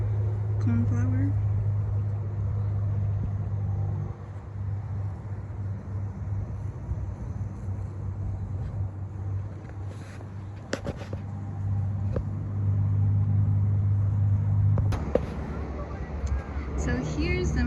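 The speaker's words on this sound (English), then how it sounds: "which is why you can hear a lot of cars going by." Steady traffic rumble from vehicles on a nearby highway, heard from a garden, with a few louder swells as cars go by at a distance, under a low continuous hum.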